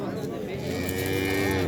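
A cow at a busy livestock market in Yangiqo'rg'on gives a long, clear moo that rises and holds, fairly close, with no talking.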